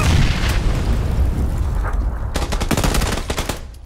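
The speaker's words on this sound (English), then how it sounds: "Somebody threw a grenade." A grenade blast and gunfire in PlayerUnknown's Battlegrounds arrive as a loud, dense rumble followed by a burst of sharp, rapid cracks near the end, with no talking.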